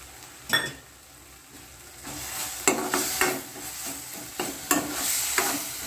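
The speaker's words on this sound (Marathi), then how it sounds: "थोडंसं चांगलं परतून घ्यायचं आपण तेलामध्ये।" Ginger, garlic and green chili paste sautés in hot oil for a capsicum bhaji. A steady soft sizzle runs throughout, with several sharp spoon scrapes and clinks against the pan.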